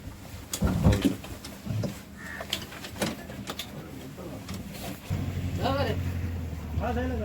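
A boat casting off from the shore near Alibaug, bound for Khanderi, its motor starting and settling into a steady drone under scattered clatter and people talking nearby.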